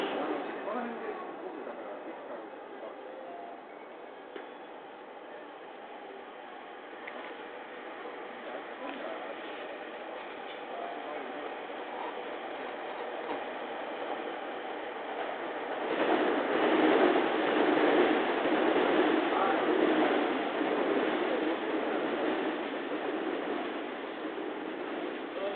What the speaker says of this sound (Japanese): まもなく11番線を列車が通過いたします。